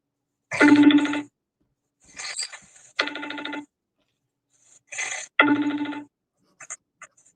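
A telephone rings after a number is dialed, with bursts of a trilling electronic bell separated by silences, followed by a few faint short blips at the end.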